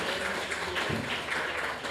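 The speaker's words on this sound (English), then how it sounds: "I would like you to give a round of applause to the Cropper Foundation" An audience applauds for the Cropper Foundation at a panel event: a steady, continuous patter of clapping that fills the hall, moderately loud and with no voices.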